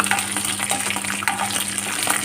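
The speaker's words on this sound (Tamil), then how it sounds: "இப்போ கத்திரிக்காய் எண்ணெயில் நல்லா வதக்கியாச்சு" Eggplant frying in oil for a spicy kara kuzhambu, a loud continuous sizzle with quick scraping stirs layered through it, close by.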